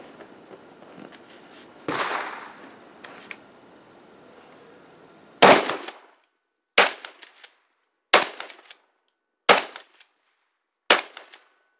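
A Remington 870 shotgun fires five high brass turkey loads, each a sharp, loud, close blast with a brief echoing tail, evenly spaced about a second and a half apart, after some quieter handling noise.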